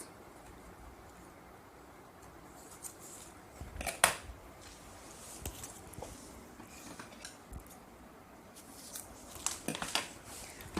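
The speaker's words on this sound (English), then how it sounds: "you have to just fold it and cut it into the half" Scissors snip through a folded strip of quilling paper to halve it, several short crisp cuts scattered over a quiet room background, close and soft, with no talking.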